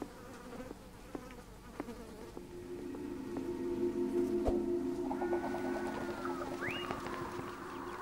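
Several flies buzz in the Apocalipsis video game, a steady insect drone under scattered clicks and small tones, with a rising whine near the end.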